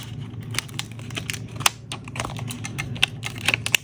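Thin UV DTF transfer film peeling slowly off a fairy-themed tumbler, a run of small crackling ticks and sharp crinkles, close and fairly quiet, with a few louder snaps along the way.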